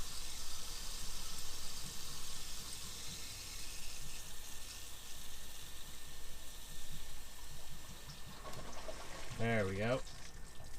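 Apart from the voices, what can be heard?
water flowing through sewer hose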